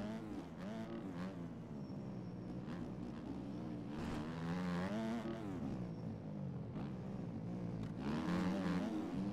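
A motocross bike engine drones steadily through MX Bikes racing at Old Hangtown, with rising and falling revs as it climbs a hill in third gear. The engine is close and continuous, and a few swells mark the throttle changes.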